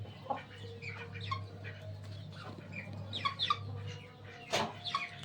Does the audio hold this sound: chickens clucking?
yes